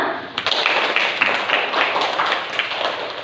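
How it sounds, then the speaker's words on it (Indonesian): A classroom of students claps together at the end of a religious education lesson, a dense, steady patter of many hands for about three seconds with no clear gaps. "kita akhiri pembelajaran ini dengan tepuk tangan dulu semua."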